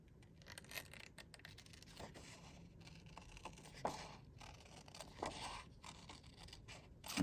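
Scissors trim a faux envelope flap paper card, quiet close snips and crisp paper scrapes in irregular short strokes, faint and intimate with no talking.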